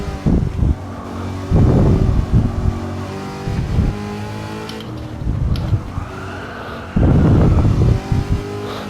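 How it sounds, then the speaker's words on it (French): Cars in Gran Turismo 7 rev and brake hard, with bursts of tire squeal and skidding as they corner, the engine droning loudly in between. "Ah ça crisse les pneus."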